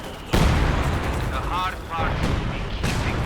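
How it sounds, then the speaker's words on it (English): Mortar fire in the World War II strategy game Company of Heroes 2, heavy booming blasts and rumbling impacts at the start and end of a short burst of battle noise, with faint whistles between them. "Mortars here covering in the centre."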